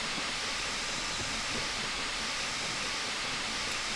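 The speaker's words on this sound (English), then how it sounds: "So we've got so much steam blowing off all the time" Steady steam hiss blowing off the Flying Scotsman locomotive in a train simulator game, a continuous broadband rush that holds at an even level for the whole stretch with no voices.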